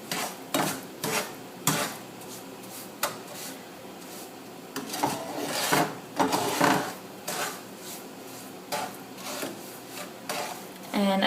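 A grainy toffee brown butter cake ball mixture gets stirred in a bowl, with repeated scraping and clunking strokes in uneven bursts, loud and close.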